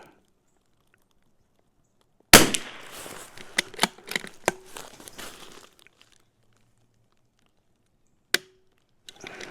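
A CZ 457 rifle fires a sharp report followed by a quick string of several cracks, then a pause and one more isolated shot, loud and close against near silence.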